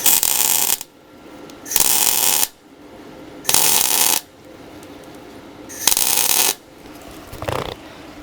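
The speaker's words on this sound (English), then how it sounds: "A tack weld is 1 or 2 seconds." A welding machine tack welds metal in four loud, close bursts of harsh crackling buzz, each about a second long, separated by quiet pauses.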